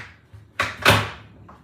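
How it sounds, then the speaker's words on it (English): An office door swings shut with a short creak, then a solid thud and a softer latch click, close and loud in a quiet room. "Let me close this door, though."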